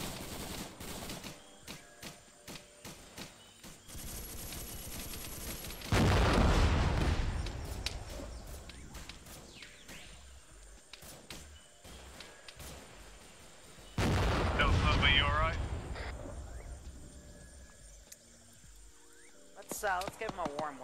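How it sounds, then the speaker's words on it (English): A recoilless rifle fires during an Arma 3 Unsung patrol, with two heavy booming reports several seconds apart rolling out over steady battlefield gunfire and intermittent voices. "Ooh, there's the recoilless rifle."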